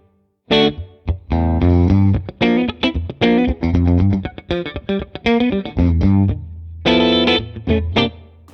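An electric guitar plays through a Fractal AM4 small plate reverb: a sequence of distorted chords and single notes in choppy bursts, each followed by a short reverb tail, loud and alone.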